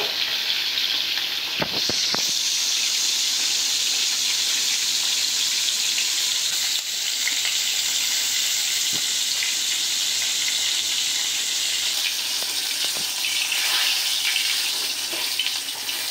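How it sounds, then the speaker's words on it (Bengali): Koi fish sizzling in hot oil in a home kitchen, a steady, even hiss of frying that holds throughout, with a few soft clicks and knocks of utensils. "তেল গরম হয়ে গেছে। এখন একটা একটা করে মাছ দিয়ে দিব।"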